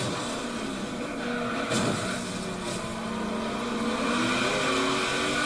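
Car engine in Forza Horizon 3 held in second gear, a continuous loud revving whine that climbs and wavers in pitch while the car pushes through a corner, with no talk over it.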